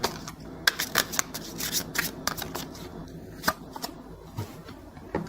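Tarot cards being shuffled and drawn by hand, a run of quick papery riffles and flicks in uneven bursts close to the mic, with soft slaps between them and no talking.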